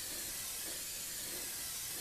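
Airbrush spraying thin coats of paint onto a Firebird model car body, a steady soft hiss of air and atomized paint holding evenly throughout, close and quiet with no voices.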